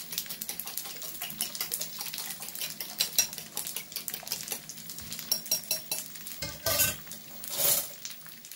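A mixture is poured into a wide, hot frying pan of already-fried food, giving a continuous close crackling sizzle with light clinks of utensils and a brief louder hiss near the end.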